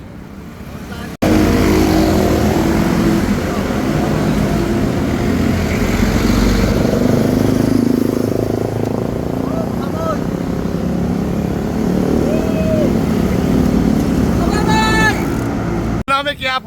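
A group of motorcycles rides at night through Quiapo, Manila, their engines droning steadily and loudly throughout, with wind rush, a few horn-like tones near the end, and people talking over the noise.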